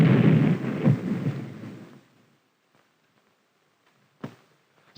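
A deep, loud rumble from an above-ground nuclear weapon test explosion rolls for about two seconds and fades away, followed by a couple of sharp distant cracks.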